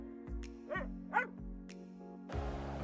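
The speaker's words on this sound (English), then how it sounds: "Dorothy lived on a farm in Kansas with her aunt and uncle and her little dog, Toto." A small farm dog barks three or four times, yapping in bright, quick bursts over a soft sustained music bed, then a rising rush of wind comes in.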